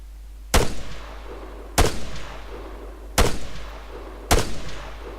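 Four loud, evenly spaced single gunshots in the military shooter ArmA 3, each a sharp crack followed by a short rolling echo, close and with no talking.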